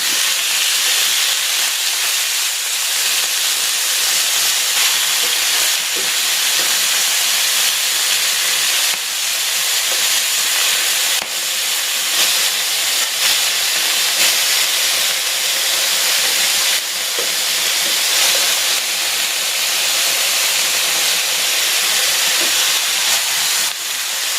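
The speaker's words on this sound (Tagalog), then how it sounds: "Maglalagay ako ng konting cooking oil. I-sear ko muna itong pork." Pork pieces sear in hot cooking oil, giving a loud, dense and steady hiss with scattered crackles that runs unbroken from start to finish, close and without voices.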